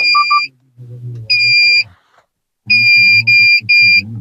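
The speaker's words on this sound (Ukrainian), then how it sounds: "Зараз ви чуєте е, э, зумер. Це означає, що їхати не можна" A Suzuki Swift's AutoSecurity A1 alarm buzzer sounds while the car is immobilized, in repeated bursts, sharp and loud, alternating with lower beeping tones and short gaps of silence.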